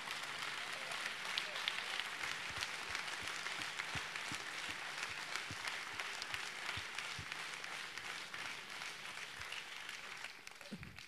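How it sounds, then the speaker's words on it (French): A crowd at a political rally in Rennes applauds at length, a sustained, fairly distant wash of clapping with scattered sharper claps standing out, tapering toward the end. "Je crois qu'on peut vraiment l'applaudir très,"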